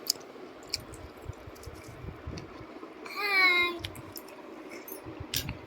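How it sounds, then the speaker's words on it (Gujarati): Several people eat roasted corn on the cob seasoned with salt and lemon, making quiet, scattered chewing and biting sounds close by, with faint voices in the background. "મકાઈ ખાવાનું ચાલુ કરી દીધું છે અહીંયા બધાએ"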